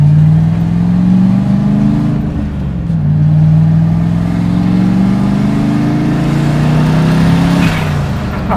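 A turbocharged LS-engined car accelerates hard through the gears, a loud, close, continuous engine drone climbing in pitch, dipping at each shift around midway, then rising again with no talking over it.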